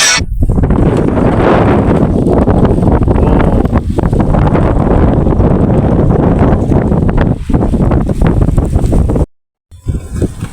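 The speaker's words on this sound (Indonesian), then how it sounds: "Kalau di kebelakangin anginnya kencang nih." Strong wind blows at sea on a fishing trip near a bagan at Tanjung Kait, with big waves. It roars steadily and loudly, buffeting the microphone, then cuts off briefly near the end.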